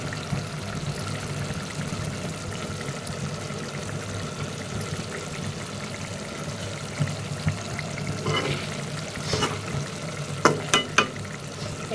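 A cauliflower curry with fresh coriander sizzles steadily in a pan, a continuous frying hiss, while a spoon stirs and scrapes in a few sharp knocks near the end. No one speaks.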